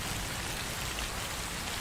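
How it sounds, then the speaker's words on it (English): Steady rain in a video game, a dense even hiss of falling drops on surfaces throughout, moderately quiet with no talk over it. "Should I just sit down and wait until the rain ends?"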